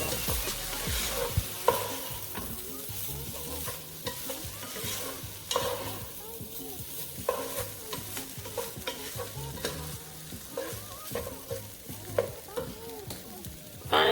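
Shrimp and ham fried rice with soy sauce being stir-fried in a pan, a steady sizzle broken by repeated scraping and tossing strokes of a utensil, close and continuous with no talk.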